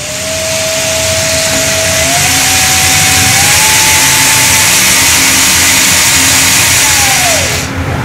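A small DC motor, driven by an Arduino through an L298N driver with a potentiometer setting its speed, gives a steady whine that rises in steps and then drops sharply near the end, over a constant broadband hiss.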